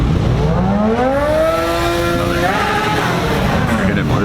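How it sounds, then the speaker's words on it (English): At an outdoor meet of German cars, a motorcycle passes nearby, its engine note climbing and falling as it revs by, loud and continuous, over a steady background of other traffic. "Hear that motorcycle? Crazy."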